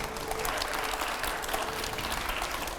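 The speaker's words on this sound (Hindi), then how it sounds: "जरा तालियां थोड़ी कम सुनाई दे रही है, जोरदार तालियां हो यहां पर" A studio audience claps steadily during a televised interview show, a dense, even patter of many hands that holds at a moderate level from start to finish.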